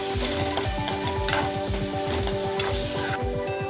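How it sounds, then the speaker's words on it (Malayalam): Chopped tomatoes hit hot oil with softened onions for a Kerala-style chutney, setting off a steady, close, loud sizzle with rhythmic stirring scrapes throughout. "ഇനി ഇതിലേക്ക് 2 തക്കാളി ചെറുതായിട്ട് കട്ട് ചെയ്ത് ഇട്ട് കൊടുക്കാം"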